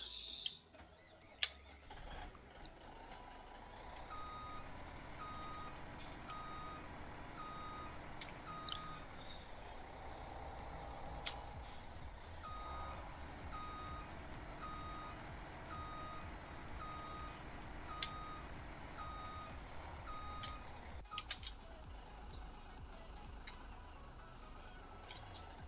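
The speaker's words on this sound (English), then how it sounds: "I think I gotta have this truck backed into it, I guess." A truck backs up in Farming Simulator 2017, its reversing alarm giving steady, evenly spaced beeps over a constant engine drone that runs throughout.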